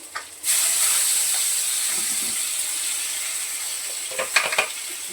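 Cumin, garlic and coriander frying in hot oil in a home kitchen, a steady loud sizzle starting abruptly after a brief quiet moment, with a few soft clinks of a utensil near the end.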